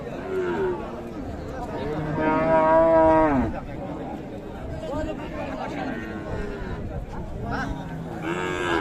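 A Sahiwal cow at the Raniganj cattle market in Dinajpur lets out a loud, drawn-out moo near the middle, with people talking and market chatter going on throughout.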